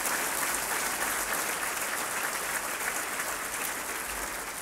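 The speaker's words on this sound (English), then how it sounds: "So please, a round of applause for Bob." Dinner guests at a 2015 tribute dinner applaud a senator. The clapping is dense and continuous, a loud, even roar of many hands held steady for several seconds.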